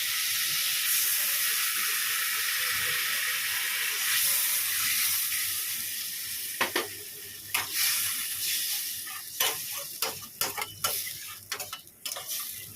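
Water poured into hot spiced oil for a Bengali curry hisses in a loud, steady sizzle that slowly eases, followed by sharp scraping and clicking as the pan is stirred.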